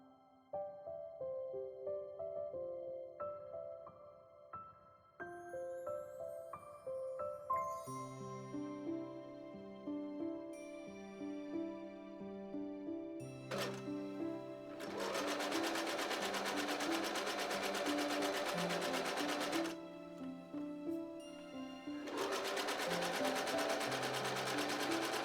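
A sewing machine stitches together side skirt pieces for a 1940s-style skirt, running in sustained bursts with a steady mechanical whir and a pause between runs, alongside soft background music.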